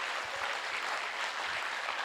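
An audience at a college students' convention claps in a steady, fairly soft round of applause that stays even for about two seconds.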